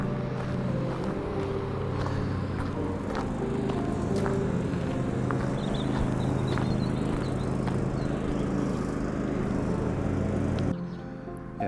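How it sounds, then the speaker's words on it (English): A lawnmower drones steadily in the distance at a campsite with caravan and motorhome pitches, a continuous low engine rumble with faint intermittent clicks, with no talking, before it cuts out near the end. "There's a lawnmower going in the background"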